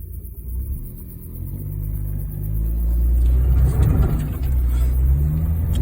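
A Honda Fit drives off-road, its engine a low steady rumble that swells slightly as it pushes along the rough track, with no voices.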